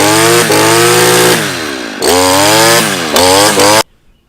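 A Stihl KM-94R gas engine pull-starts and catches, its buzzy two-stroke idle rising and falling through several revs before cutting off abruptly near the end; loud and close, with no talk.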